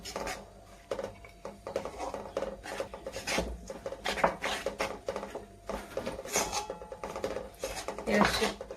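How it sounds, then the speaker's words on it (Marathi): Stirring ground roasted peanuts into hot sugar syrup in a pan for peanut biscuit barfi, close and steady with rasping scrapes of a spoon against the metal pan and the thick mixture, continuous with no talk. "हे पाकामध्ये अगोदर कुट मिक्स करून घ्यायचं"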